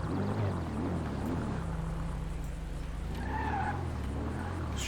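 A car being maneuvered into a parking spot in GTA 5, its engine humming with shifting revs and brief tire squeals, close and continuous, with no voices.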